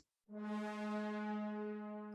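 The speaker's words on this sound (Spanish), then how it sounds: "El portato suena así." A virtual instrument from a sample library playing a portato articulation: one smoothly attacked, bright harmonic tone that enters after a short pause and holds for about two seconds before easing slightly, with no talking.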